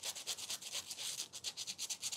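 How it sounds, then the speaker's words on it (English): Sandpaper rubs back and forth on a mountain bike part in quick, even strokes, a close, scratchy rasp repeating about seven times a second with no talking. "Bit of a sandpaper on it."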